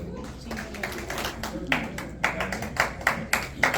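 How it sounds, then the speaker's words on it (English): Scattered claps and applause from a small audience at a volunteer medal ceremony in a Legion hall, starting sparse and building into louder bursts, with faint voices murmuring underneath. "So one last round of applause to them, everybody."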